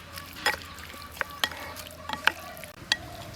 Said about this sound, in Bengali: কর্নফ্লাওয়ারের সাথে খুব ভালো করে মিশিয়ে নিচ্ছি চিকেনটা সবগুলো মশলা একসাথে মিশিয়ে নিচ্ছি